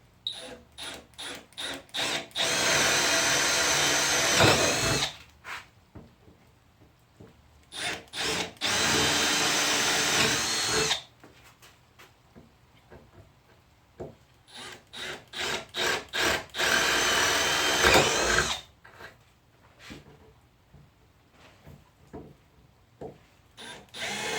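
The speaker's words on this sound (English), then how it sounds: "going to just start off by drilling holes in each of them" A cordless drill whirs loudly through wood in three sustained bursts, drilling holes for breadboard ends on a table top, separated by short clicks and handling knocks.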